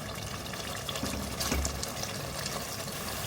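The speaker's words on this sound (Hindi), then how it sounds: "मिक्स करके मैं इसमें ग्रेवी के लिए पानी डालूंगी" Water pours into a pot of beef korma for the gravy, a brief close gush and splash over a low bubbling sizzle, with no voices.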